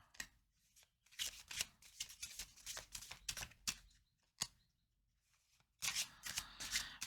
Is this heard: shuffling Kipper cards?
yes